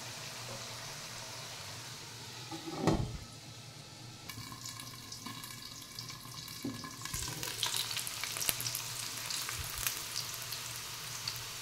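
Potatoes frying in a pan for sabudana khichdi, a soft continuous sizzle with occasional stirring scrapes and clatters, quiet and close.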